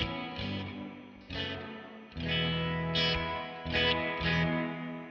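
Electric guitar chords played through The Flick, a DIY reverb, tremolo and delay pedal set to reverb, each strum blooming into a washy, lingering tail as several chords ring out in turn with no talking.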